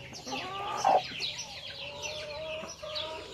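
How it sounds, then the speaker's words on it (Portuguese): Young hens in a small backyard pen cluck and chatter close by, with soft repeated clucks and one louder squawk near the start, over a quiet background. "Tem 2 galinhas aqui."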